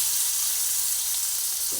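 Onion and garlic fry together in a pan with a steady, close hiss and sizzle, a continuous bright crackling texture with no voices over it.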